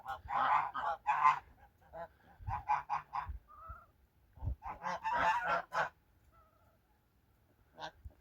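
Geese honk in a farmyard as ganders circle close around a goose, with repeated loud honks in bursts and short quiet gaps between calls.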